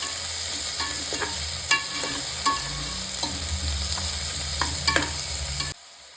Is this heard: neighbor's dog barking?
no